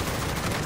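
Gunfire in Call of Duty Modern Warfare during the Spec Ops mission Safeguard: a dense, continuous burst of shots packed into well under a second, loud and close, with no talk over it.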